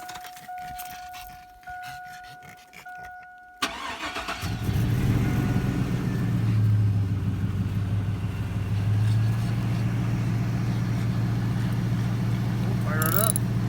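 A Chevrolet Tahoe engine cranks and catches at about four seconds, then settles into a steady, loud idle that runs to the end. Quieter sounds come before the start, with a dog and talk nearby.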